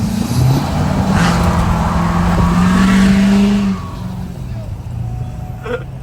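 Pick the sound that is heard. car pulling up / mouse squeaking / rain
car pulling up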